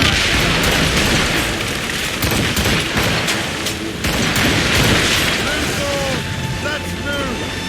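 Cannon fire in Assassin's Creed Rogue, a rapid barrage of heavy booms and blasts rolling one over another, loud and dense throughout, with a few faint whistling tones near the end.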